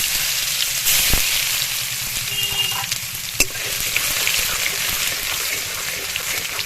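Cinnamon and crushed garlic hitting hot oil in a pan for a Bhai Phonta festive meal, giving a steady loud sizzle and crackle throughout, with a couple of sharp clinks from a spoon or pan.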